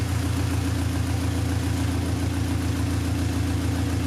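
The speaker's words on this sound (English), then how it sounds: "But we got it on heat and we just got it idling." B16-swapped Honda Civic engine idling while warming up, a steady, even rumble with a fast regular pulse, loud and close, without any talk over it.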